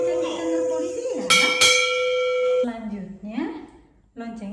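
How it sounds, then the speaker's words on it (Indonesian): A bell rung at a police station gives bright metallic strikes that ring on with a clear lingering tone. A voice talks before and after the bell. "Coba kita dengar lonceng di kantor polisi ya."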